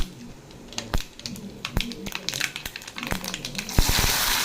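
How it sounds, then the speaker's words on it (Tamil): Mustard seeds splutter in a hot pan, sharp irregular pops crackling over a steady frying sizzle that grows brighter and more intense toward the end. "கடுகு நல்லா பொரியுது பாருங்கள்"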